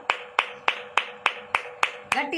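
A church congregation claps in unison, eight sharp, evenly spaced claps about a third of a second apart, close and loud, with a voice starting at the end.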